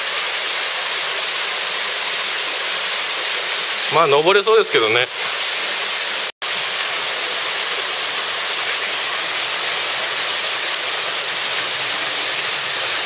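Miyauchi Falls on the Takatago River in Boso roars with high water during a river trek, a steady full rush filling the whole scene while someone speaks briefly over it.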